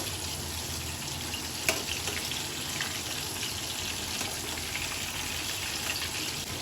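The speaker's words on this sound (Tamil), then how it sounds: "எண்ணெயில் சிக்கன் நல்லா பொரியட்டும்." Chicken lollipop pieces fry in a pan of hot oil, a dense continuous crackling sizzle close up, with one sharp tap near the start as the pieces are turned.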